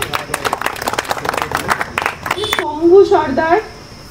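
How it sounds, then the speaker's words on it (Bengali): Audience clapping for a winner at a hybrid vehicle mileage challenge results event, a burst of scattered applause that fades as voices and an amplified announcer take over. "সবাই জোরে একটু ক্ল্যাপিং করবে।"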